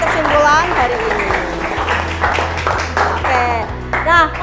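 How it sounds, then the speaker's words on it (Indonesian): A classroom group claps for two students, a short scatter of applause heard under a teacher speaking, with light, uneven hand claps rather than a full ovation. "tepuk tangan untuk Anya dan Ziva sudah memberikan pendapatnya"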